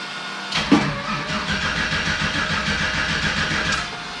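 A race vehicle's engine is cranked and catches near 0.7 seconds, then settles into a steady, loud idle that runs close by to the end. There is no talk.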